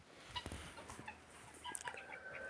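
Two geese give faint, scattered honks and clucks at a distance, a few short calls breaking an otherwise quiet outdoor scene.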